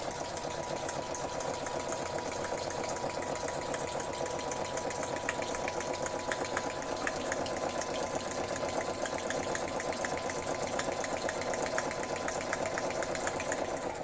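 A sewing machine stitching through craft papers runs steadily and close, a continuous fast mechanical whir and rattle that holds an even level throughout with no talking.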